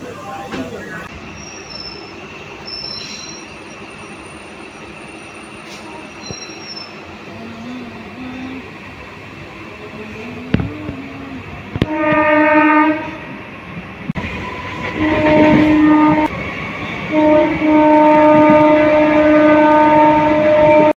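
A local commuter train running along the rails, a continuous rumble and clatter with wheel squeal, then a loud sustained horn with several blasts near the end, heard from on board; voices chatter faintly under it.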